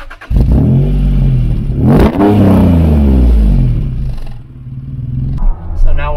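A first-generation Honda NSX engine pulls hard while driving, loud revs sweeping upward in a couple of surges, with someone talking over the engine noise.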